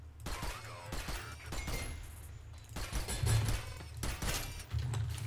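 Gunfire from the video game SYNTHETIK, a string of sharp, punchy shots in quick bursts, loud and close, with brief crashing impacts between volleys.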